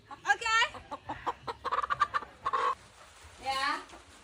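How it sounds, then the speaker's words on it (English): A live chicken clucks and squawks close by, held by someone after being caught, giving rapid bursts of clucks, a few louder cackling cries, and a rising squawk near the end, with a voice briefly heard. "You caught the chicken, okay?"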